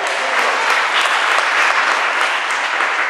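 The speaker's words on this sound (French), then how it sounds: "Acclamons pour le Seigneur." A church congregation bursts into sustained, loud applause during a Sunday service, a dense steady clapping that fills the room without pause.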